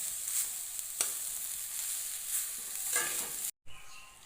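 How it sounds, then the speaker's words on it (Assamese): Grated coconut and sugar fry in a wok while being stirred, a steady close sizzle broken by occasional scraping strokes of the spatula, with a brief cut near the end. "আৰু এইখিনি এতিয়া মই ভালদৰে ভাজি থাকিম।"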